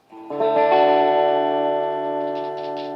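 A Harley Benton ST-70 electric guitar, bridge position, through a clean Fender 65 Deluxe Reverb amp model rings out a strummed chord that sustains and slowly decays, with light picking noise near the end.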